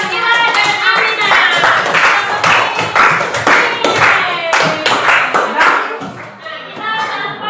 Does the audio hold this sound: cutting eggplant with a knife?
no